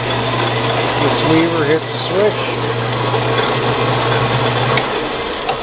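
A 7x12 inch band saw with hydraulic down feed runs with a steady low mechanical hum and faint whine, close by, under continuous talking.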